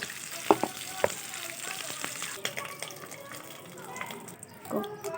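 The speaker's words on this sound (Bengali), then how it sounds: "এবার মাছ ভেজে নিব এক পিঠ ভাজা হলে উল্টিয়ে নিব" Fish fries in a pan with a soft, steady sizzle, broken by a few sharp clinks and scrapes of a utensil. The cooking sounds are fairly quiet and close.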